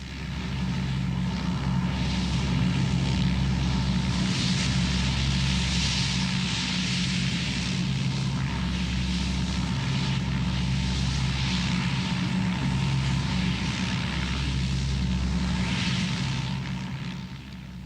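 Propeller engines of a rescue evacuation plane droning loudly and steadily nearby for the whole stretch, a low throbbing hum with no voices.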